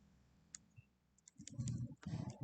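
Quiet mouse clicks from a computer in the Krita animation software's render dialog, a few isolated sharp ticks followed by a short burst of denser clicking and handling noise near the end.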